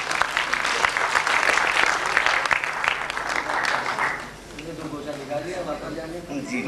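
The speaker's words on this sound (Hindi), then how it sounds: "आप लोग तालियों से स्वागत करते हैं।" Audience at an Urdu mushaira poetry gathering applauds to welcome a poet to the microphone: dense, loud, sustained clapping that fades after about four seconds, with voices continuing over the hall afterward.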